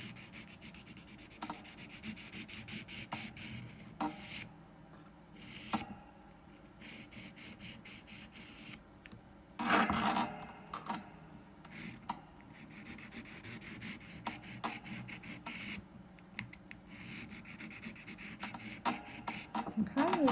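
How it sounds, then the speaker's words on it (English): A nail file is worked over gel pink and white nails, making close, repeated scratchy rubbing strokes in uneven bursts with brief pauses between passes. "Leave the dust where it is as you're filing"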